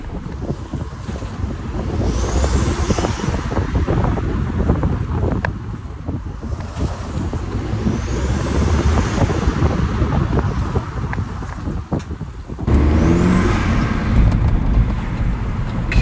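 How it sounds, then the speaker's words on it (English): An Audi TT Mk2 TFSI front-wheel-drive car on a test drive after new drilled and grooved brake discs were fitted, giving a steady, loud broadband road and wind roar with no voices. "let's take her out for a test drive"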